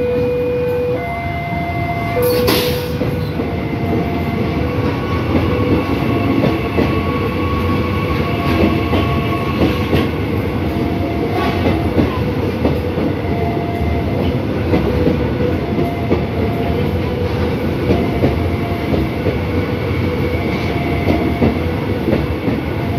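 KRL Jogja–Solo electric commuter train rolling past a level crossing, a loud, steady rumble with rhythmic wheel clatter and faint squeals holding throughout, close by, with no talking.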